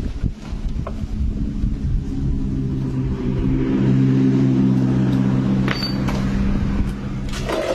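A Honda Beat FI scooter engine with an oil-burning fault idles steadily with a low rumbling hum, interrupted by a few sharp clicks and some wind noise, without speech.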